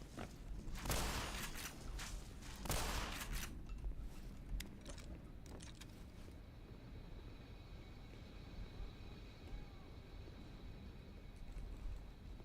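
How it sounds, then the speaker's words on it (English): Distant gunfire in the video game Black Mesa: Blue Shift, with two loud bursts early on and scattered fainter pops afterward over a steady mechanical, industrial background hum. "I hear gunshots."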